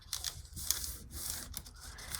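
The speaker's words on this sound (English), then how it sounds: "I'm just gonna use my scissors here" Scissors trim scrap paper for a layered DIY envelope, making close crisp snipping and rustling sounds over a couple of seconds with no voice.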